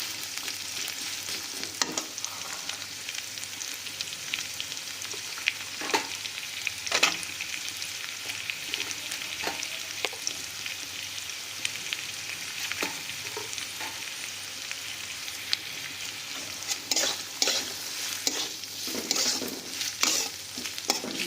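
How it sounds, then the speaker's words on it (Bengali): Green chillies frying in a pan with a steady sizzle, punctuated by intermittent scraping stirs of a spatula; no talking. "বাকিটাকে খুব ভালো করে আমরা ভাজা করে নিচ্ছি"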